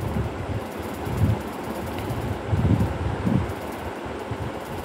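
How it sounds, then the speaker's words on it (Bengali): During a storm on Maafushi island in the Maldives, gusty wind and rain make a steady broadband rush, with low buffeting surges swelling and fading every second or so. "বৃষ্টি এবং বাতাসের যে দমকা হাওয়া"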